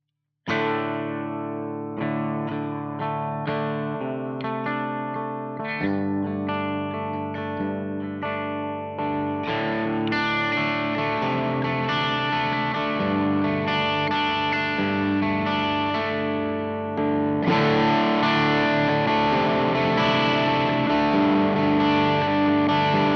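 Electric guitar with Ron Ellis Bill Frisell pickups plays chords through an Ethane Dual Overdrive pedal, thick and sustained, changing every few seconds and growing fuller and grittier toward the end, with no talking.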